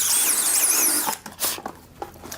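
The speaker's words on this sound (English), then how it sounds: "I've switched to the 3/32 size snappy pilot hole countersink bit because I'm using these number 7 by 3/4 inch Phillips countersunk screws for attaching the tray" A 3/32 countersink pilot bit drills into plywood for a carpenter's sawhorse tray, a steady high whine running for about a second before cutting off into a few short scrapes and clicks.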